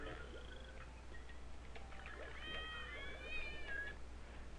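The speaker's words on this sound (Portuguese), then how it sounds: "Pode ver esse gato que parece o Sonic" A cartoonish cat enemy in Donkey Kong Country 2 on the Game Boy Advance lets out a faint, high meow over quiet game background noise, with soft murmured talk nearby.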